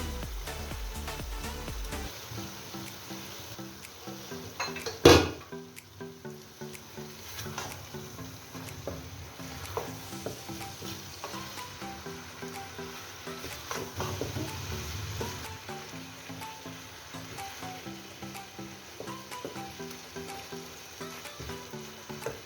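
Chicken pieces fry in a pan with a soft, continuous sizzle, broken by scattered clicks and scrapes of stirring and one louder knock partway through.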